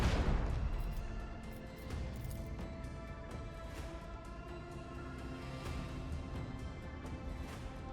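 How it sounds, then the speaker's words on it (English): Rapid cannon fire rumbles through a starship battle in the Warhammer 40k: Rogue Trader video game, a dense low barrage of booms and blasts that opens loud and settles into a sustained thundering roll. "Unleash the storm of micro cannons."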